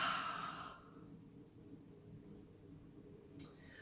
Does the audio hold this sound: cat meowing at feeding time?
no